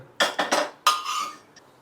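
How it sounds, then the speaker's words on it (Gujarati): Several quick metallic scrapes and clinks of a utensil against a pot as guvar dhokli is moved into another pot, in short bursts, then a fading scrape; no talking. "બીજા વાસણમાં ટ્રાન્સફર કરી દીધો છે"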